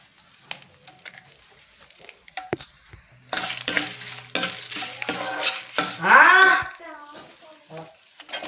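Dried red chillies, garlic and sesame seeds fry in a pan, starting with sparse clinks and taps, then a spoon stirring with scraping and sizzling in bursts, louder near the end, while someone talks.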